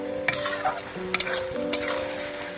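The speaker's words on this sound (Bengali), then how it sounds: "সর্ষে বাটাটা আমি দিয়ে দিয়েছি দেখুন আর একটু জল আছে একটু নাড়ি চাড়ি শুকনো করে নেব" Wild yam leaves with mustard paste are stirred in a pan over a wood-fired stove, with steady sizzling and several distinct scraping clacks of the spatula against the metal, close and clear.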